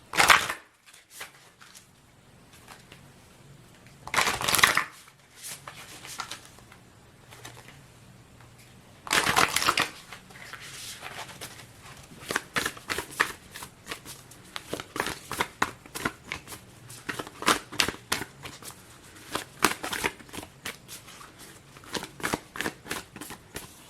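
Tarot oracle cards being shuffled in a quiet ASMR setting, with two bursts of riffling and then a run of soft, irregular card taps and flicks, close and alone.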